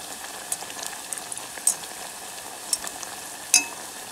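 Sweet potato fries sizzle and crackle in hot oil, a soft continuous frying hiss with a few sharper pops, heard close and fairly quiet with no talk.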